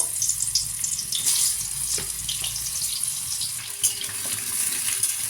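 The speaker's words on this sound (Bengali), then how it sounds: "তেলটা আমার গরম হয়ে গেছে, আলুগুলো দিয়ে দেবো, আলুগুলো ভেজে নেব।" Potatoes fry in hot mustard oil in a pan, giving a steady, close sizzling hiss that runs without a break and with no talking.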